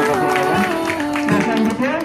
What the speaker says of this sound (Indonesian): Tepuk tangan untuk teman-teman semua.